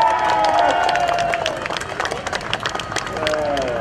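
Audience at a welcoming event for Thai Prime Minister Yingluck Shinawatra gives a moderate burst of applause mixed with crowd murmur, steady for a few seconds and then thinning, with a voice speaking over it.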